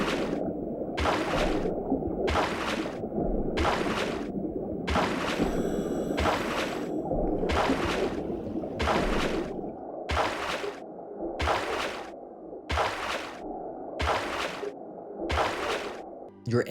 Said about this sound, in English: the terrible kicking sound your diver makes